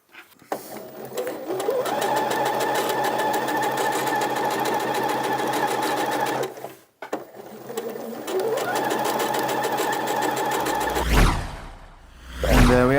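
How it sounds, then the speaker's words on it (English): Sewing machine running steadily as it stitches a hem line around a skirt edge, a continuous loud whirring drone with one brief pause midway, ending with a few handling thumps and clatter. "sew a line of stitching 1 centimeter from the edge all the way around"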